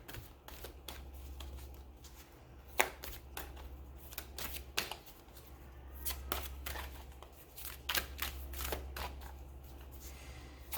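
Tarot cards are shuffled close up in irregular bursts of crisp riffling and slapping, with quieter handling sounds and a low hum between them.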